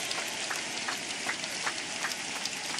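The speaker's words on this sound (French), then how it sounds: "Give the Lord a big hand of praise." A church congregation at a French-English wedding service claps in praise, a dense, steady patter of applause heard from a distance with faint rhythmic accents.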